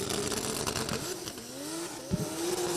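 A drift car at the 2023 Oman International Drift Championship runs a pass on the track, its engine revving and wailing in rising and falling sweeps with a sharp burst near the end, loud and continuous.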